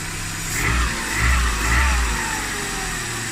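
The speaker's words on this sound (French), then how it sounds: "le bruit que ça fait là, l'entrée d'air, vous inquiétez pas, j'ai rien fait sur mon moteur" A petrol 1.4 TU engine in a Peugeot 206 runs with its air filter removed, giving a steady low hum with intake noise and a few gentle swells in revs, close by with no talk.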